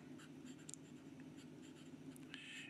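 A Visconti Rembrandt fountain pen nib with a lot of tooth scratching across paper, faint close strokes with small scratchy bursts over a quiet low hum, no talk.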